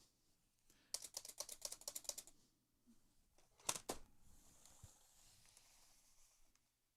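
Computer keyboard keys clatter in a quick burst of rapid presses, then a shorter cluster a moment later and a few scattered taps, all close and quiet in an otherwise hushed room.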